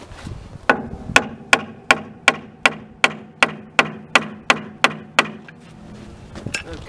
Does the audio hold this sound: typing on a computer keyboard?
no